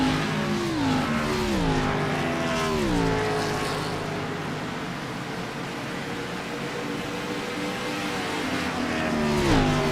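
Race cars from iRacing at Darlington roar past in a dense pack, their engine notes sweeping up and down as gears shift. The sound stays continuous, loud and layered from start to finish.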